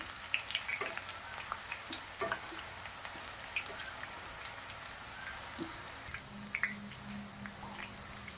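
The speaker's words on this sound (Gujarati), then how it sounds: "ધીમા ગેસે જ આપણે આને તરવાનું છે" Raw banana slices frying in oil over a low gas flame make a gentle, continuous crackling sizzle, with scattered small pops like light rain throughout.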